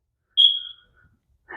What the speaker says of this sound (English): Try to ignore the fire alarms going off